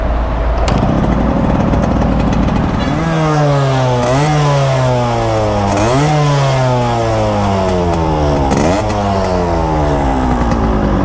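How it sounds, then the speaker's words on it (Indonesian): A 1980 Yamaha RX100 motorcycle engine rated at 11.5 horsepower starts up and runs close by, its loud exhaust climbing and falling through repeated throttle revs over a steady idle, with no talking. "Kita coba yuk dari kita hidupin mesinnya dulu ya."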